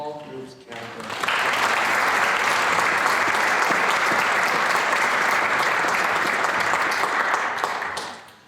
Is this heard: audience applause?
yes